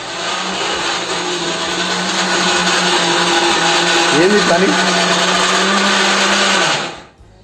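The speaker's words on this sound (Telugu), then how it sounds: "నువ్వు చెప్పకుండా మిక్సీ పెడితే ఎట్లా" A kitchen mixer grinder whirs loudly and steadily for several seconds, close by, then cuts out near the end; a voice speaks briefly over the motor.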